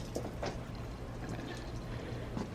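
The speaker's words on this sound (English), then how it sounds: "Drain the water." Soapy water drains steadily from a tub used to wash raw APC denim jeans, a continuous low gurgling pour with faint splashes and no voices.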